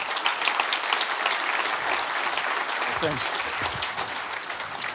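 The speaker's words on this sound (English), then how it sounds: "give a very warm welcome and round of applause for the Chief Technology Officer of Volt" An audience at a product update event applauds to welcome a guest, a dense, even patter of clapping that continues throughout while someone briefly speaks over it.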